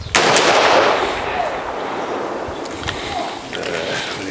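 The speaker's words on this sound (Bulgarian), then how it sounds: "С натискане на спусъка от 45 градуса се възпроизвежда изстрел по моя команда" One loud gunshot from a historical firearm bursts out at the start and then rolls into a long echoing rumble and decay that lasts several seconds.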